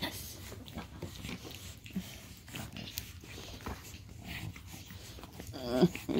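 Seven-week-old puppies and their mother dog growl, whimper and snuffle while playing close by, with breathy scuffling sounds and a louder yelp near the end.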